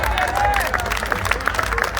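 Audience applause at a college fest event, a mid-level patter of clapping from a crowd with a voice talking over it.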